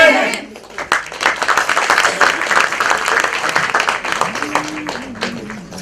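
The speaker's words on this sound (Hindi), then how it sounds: "जोरदार तालियां" Applause at a trophy ceremony hosted by a municipal councillor, crisp individual claps blending into steady crowd clapping, fading somewhat as a voice begins speaking near the end.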